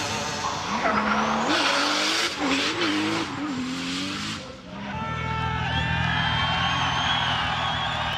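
Tires squeal loudly and continuously as a car drifts, engine revving and wavering underneath, close by and sustained.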